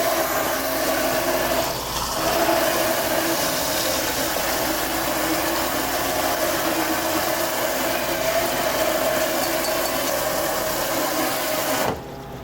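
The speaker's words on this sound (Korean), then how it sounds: "그럼 한번 찬물에 헹궈 줄게요" Cooked tapioca pearls are rinsed under cold running tap water, a steady close rushing hiss that carries on throughout and stops abruptly just before the end.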